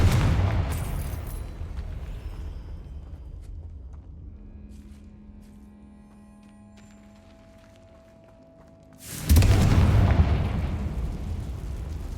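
In Hogwarts Legacy, a Confringo blasting curse goes off as a loud deep explosion. A rumbling tail fades over several seconds, and after a quieter stretch a second heavy blast erupts.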